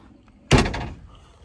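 A single solid door thunk from a 1962 Plymouth Valiant, a sharp close slam that fades quickly in a quiet space.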